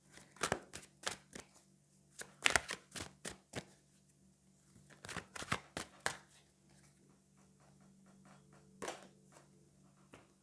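Tarot cards shuffled and one drawn: a run of sharp, crisp card snaps and riffles in uneven bursts, close and fairly faint, with quieter handling between, no talking.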